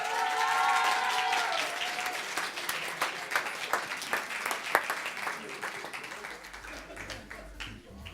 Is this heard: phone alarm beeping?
no